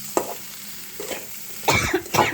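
Vegetables being stirred into a waterless fried spice masala in a home kitchen: a few short scraping and sizzling bursts, close by, with a cough-like sound near the end.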